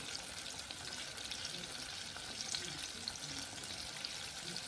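Breaded chicken tenders deep fry in hot oil, a steady, dense crackling sizzle that holds at an even level throughout, with no voices.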